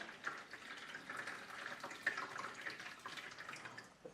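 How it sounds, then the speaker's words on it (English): Freshly boiled water from a kettle pours into a tray holding ceramic ramekins, a steady splashing trickle with small drips and gurgles, close and moderately loud, with no talk. "I've got a kettle here that I've just boiled water, so I'm going to add the water into the tray"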